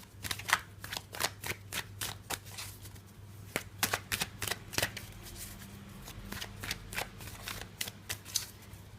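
A deck of tarot cards is shuffled close up, giving a long run of rapid, crisp riffles and flicks in an uneven rhythm, with no voices.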